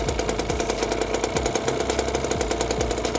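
A Kawasaki Ninja RR two-stroke motorcycle engine runs at idle with the exhaust covered. It makes a loud, steady buzzing drone with a fast regular pulse, and no talking is heard.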